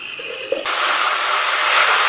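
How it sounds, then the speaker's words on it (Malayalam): Second coconut milk pours steadily into a rice batter of raw white rice, a close, continuous liquid gush that thickens and stays loud after a brief start, with no talking. "ഇനി ഇതിലേക്ക് ഇനി നമ്മളെടുത്ത് വെച്ച രണ്ടാം പാൽ ഒഴിച്ചു കൊടുക്കും"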